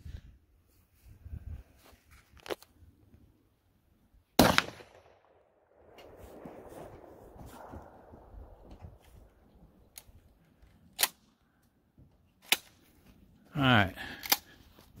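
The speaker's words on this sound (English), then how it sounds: "I'm just trying to get Todd's gun dialed in. Put a new scope on" Rifle shots outdoors at a deer camp while sighting in a newly mounted scope: a few sharp, isolated cracks spread over quiet stretches, with people talking faintly and a couple of clicks between shots.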